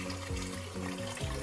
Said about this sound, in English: Now, I'm gonna put some water in it.